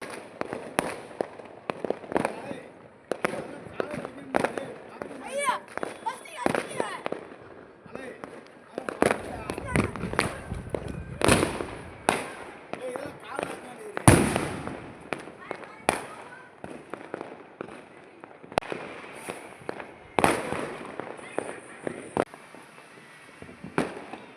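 Strings of small bijili firecrackers burst in rapid, sharp pops during Diwali, with louder isolated bangs scattered throughout and people talking in between.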